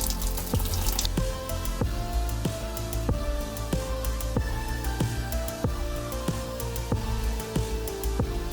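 Orange NEIPA wort dribbles out of a brewing vessel into a 23-litre fermenter, a continuous close trickle and splash punctuated by regular sharp drips and plops falling into the liquid.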